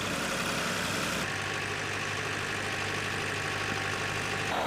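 Old tractor engine running steadily while ploughing on a farm, a close, loud, continuous low rumble with a constant drone and no pauses.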